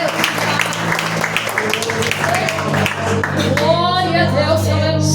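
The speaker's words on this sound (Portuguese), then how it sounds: "Em nome de Jesus, aplauda ao Senhor." A church congregation claps over sustained keyboard or organ chords, the applause moderate and blended with music, and a voice rising toward the end.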